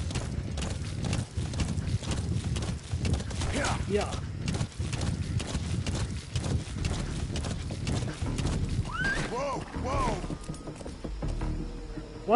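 D-Horse, the player's horse in Metal Gear Solid V: The Phantom Pain, trotting with a steady clip-clop of hooves and giving a short neigh near the end, with someone talking over much of it.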